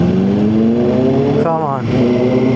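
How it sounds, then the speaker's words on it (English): A powerful Kawasaki Z900 motorcycle with a loud exhaust climbs in pitch as it accelerates past, briefly shifts, then roars on, loud and close while a person speaks over it. "Oh, there's a big bike coming."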